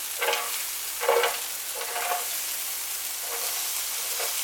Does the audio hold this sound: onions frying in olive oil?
yes